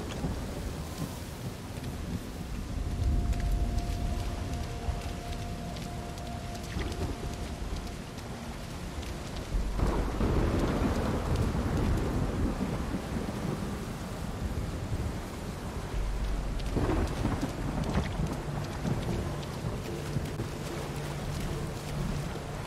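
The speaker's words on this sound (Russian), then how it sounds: "Или эта гроза так переливается?" Thunderstorm with heavy rain in the video game Uncharted 4: a steady roar of rain and wind with deep rolling thunder that swells in several surges, loud and continuous throughout, with no talking.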